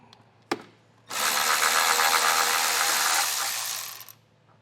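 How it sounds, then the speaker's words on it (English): A power tool or ratchet whirs for about three seconds on the 10mm bracket nut of a 2025 Toyota Camry, after a sharp click and before the sound tails off; close, with no talk. "the 10mm nut that's holding on the bracket, we'll get that removed"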